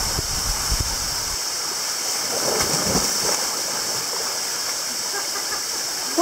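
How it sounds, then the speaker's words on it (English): A waterfall in Hidden Jewel Gorge, Australia, the seventh on an abseiling descent, gives a steady, even roar of rushing water that fills the scene from start to end with no clear voices over it. "That was number 7 waterfall."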